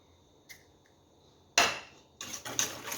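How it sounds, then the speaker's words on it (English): An egg cracks against a hard edge and its shell breaks open in a quick sharp snap, then a few softer crackles and taps as the shell is pulled apart, close and alone. "We crack the egg open and add to it."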